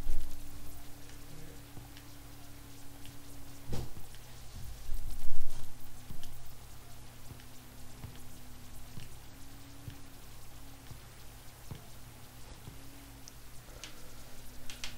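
Steady rain patter and drip-like ticks from a FIFA 20 football match broadcast, Emmen versus Utrecht played in heavy rain, a continuous wash with a low steady hum beneath and a few louder taps.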